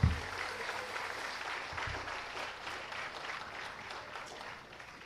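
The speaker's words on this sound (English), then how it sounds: "join me in giving another round of applause to them all." An audience at an awards ceremony for a parliament building design competition applauds in a sustained, even burst of clapping that slowly fades toward the end, with no voices over it.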